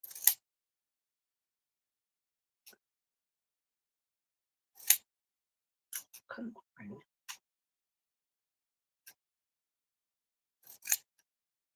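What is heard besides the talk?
pinking shears trimming fabric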